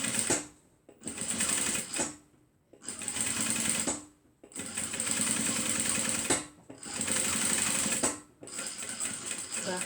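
A sewing machine stitches a zipper handbag in rapid, steady bursts of whirring needle strokes, pausing briefly between runs as the fabric is repositioned; the motor is close and loud.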